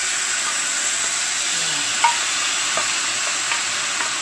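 Sweet cured pork tocino frying in a pan, with a steady close hiss and sizzle throughout and a few faint clinks of stirring.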